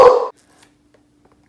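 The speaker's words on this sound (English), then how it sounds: "What are you barking at?" A single short, loud dog bark close by, followed by near silence with a faint low hum and a small sound returning at the very end.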